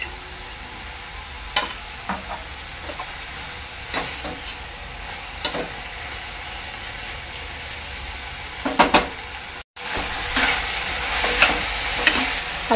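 A veg spring roll filling of vegetables and red chili sauce is stirred in a hot pan, giving a soft steady sizzle broken by close scraping spoon strokes that grow busier toward the end.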